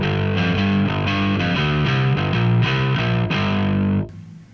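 Heavily distorted bass through a Softube Amp Room with an upper shelf EQ, playing a steady run of thick, gritty notes that end abruptly in a brief fading tail, loud and close with no talking.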